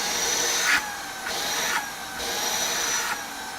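A Shark cordless vacuum cleaner running close by with a steady whine whose pitch rises and falls in slow surges about every half second, with no voices.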